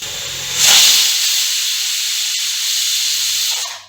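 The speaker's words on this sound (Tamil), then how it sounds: "விசில் வந்துருச்சு" A pressure cooker cooking lentil sambar with mixed vegetables lets out its whistle as a sudden loud steam hiss that holds steady for about three seconds, then cuts off.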